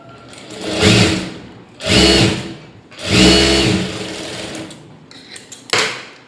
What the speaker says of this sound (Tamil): இதை திரும்பி ஒரு தையல் போட்டு எடுத்துக்கோங்க